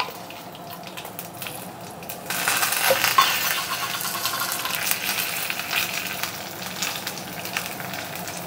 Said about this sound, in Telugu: మామూలుగా అయితే వెల్లుల్లి వేస్తాను తాలింపులో, ఇంకా స్వామి కోసం కాబట్టి కొంచెం ఎక్కువ ఇంగువ వేసి